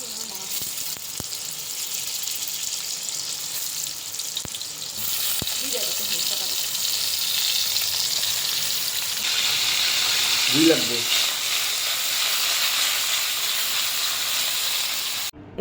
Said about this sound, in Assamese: কেৰাহী এখনত তেল গৰম কৰি তাৰ পাছত পটলখিনি ফ্ৰাই কৰিব দিছোঁ